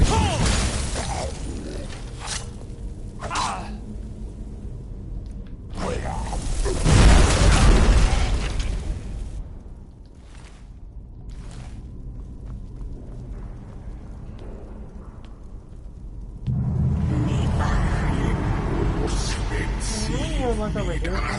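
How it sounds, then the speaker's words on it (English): A Skyrim fire-breath dragon shout erupts in a loud, roaring burst of flame, followed by a crackling, rushing stretch of fire and game effects, with someone speaking intermittently. "Oh, maybe I can if I use the fire, maybe the fire shout."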